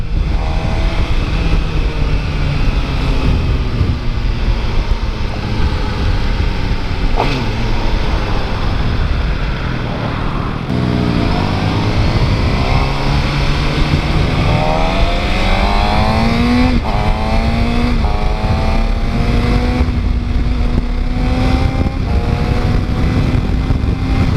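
A 2015 Suzuki GSX-R 600 sport motorcycle engine drones steadily and close, its pitch rising and falling as it revs through gear shifts, with constant wind rush.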